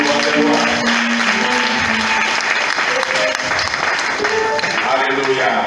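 Church congregation applauding continuously and loudly, with voices mixed into the clapping throughout.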